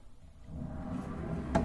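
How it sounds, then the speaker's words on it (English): A storage drawer sliding along its metal drawer glides on an Excelsior Henderson cabinet, a low rolling rumble that builds and ends in a short knock as it stops. "It's drawer glides."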